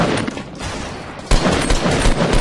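Gunfire in the Fortnite video game, a dense stretch of loud overlapping shots. The fire swells into a heavier burst partway through.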